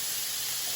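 Onion and pineapple sautéing in a hot pan, a steady, close sizzling hiss with no other sound.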